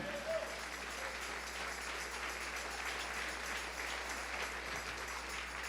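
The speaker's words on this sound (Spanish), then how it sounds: "Dale un aplauso al Rey." Sustained audience applause at a church wedding ceremony, a dense steady wash of clapping from many hands, moderately distant and unbroken throughout.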